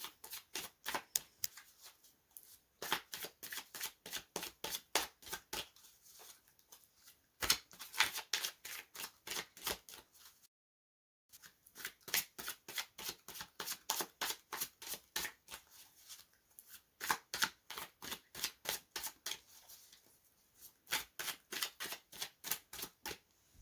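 Tarot cards are riffle-shuffled repeatedly in quick crisp bursts of rapid flutter, with short pauses between shuffles; close and fairly quiet, no talking.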